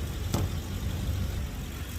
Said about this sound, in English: idle engine for 10 to 15 minutes